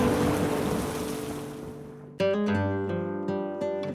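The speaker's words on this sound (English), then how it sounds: "The rain began to fall and the thunder began to roar." Heavy rain falls in a loud, dense wash and fades to the background as a musical score enters midway, with no distinct thunder crack standing out.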